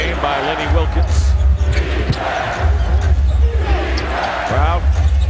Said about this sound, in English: Crowd chanting defense, and the Raptors have done that pretty well tonight